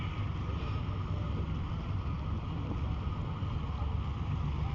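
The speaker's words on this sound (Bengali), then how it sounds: "এই মুহূর্তে হচ্ছে টিপু 13 লঞ্চটা দেখতে পাচ্ছেন।" Steady broadband rumble of the Tipu 13 passenger launch on the river near Mongol Shikdar launch ghat, Lalmohan, Bhola, a continuous low engine drone with wind and water noise and no break for the whole stretch.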